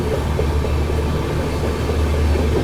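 The Swarn Shatabdi Express train rumbles along in a loud, steady, continuous roar of wheels and carriage noise with a heavy low drone and no distinct pauses.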